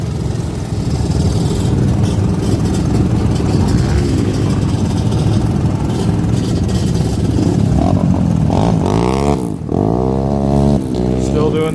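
Vintage ATV engines drone and rev at barrel races, a steady loud motor rumble with a rising whine near the end, under frequent nearby talk.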